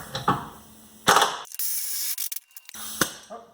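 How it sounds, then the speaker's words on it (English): Wrench working a nut loose on a Jeep Cherokee XJ Dana 30 front axle bracket bolt, giving sharp metallic clicks and ratcheting bursts close by, separated by short pauses, with no voices. "Now I'm trying just to take the nut off."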